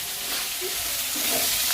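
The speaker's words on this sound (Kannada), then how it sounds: "ಸಾಂಬಾರಿಗೆ ಒಗ್ಗರಣೆ," Oil tempering for sambar sizzles and crackles in a village kitchen, with a steady, close, hissing fry that holds throughout.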